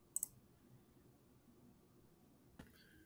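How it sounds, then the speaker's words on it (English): A mouse clicks twice in quick succession, faint in a quiet room, followed by one more soft click a couple of seconds later. "So we're going to click on the March assessment here."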